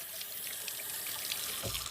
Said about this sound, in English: Rinse off your hands. Wash them real good.